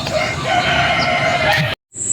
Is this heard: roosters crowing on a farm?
yes